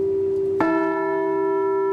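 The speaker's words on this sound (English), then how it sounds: "Today, she was the first to ring the bell during the moment of silence and remembrance at the Capitol." A memorial bell at the Capitol is struck once during a moment of silence and remembrance, and its clear tone rings on and slowly fades over a low hum that was already there.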